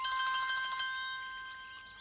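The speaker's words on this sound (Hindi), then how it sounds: "अरे फोन है।" A phone ringtone plays as a bright repeating electronic melody, loud at first and fading slightly over two seconds, with no talk over it.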